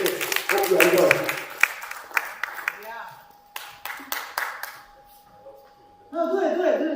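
Conference audience in Bled, Slovenia, bursts into loud applause that thins into scattered, separate claps, followed by a voice speaking at the end.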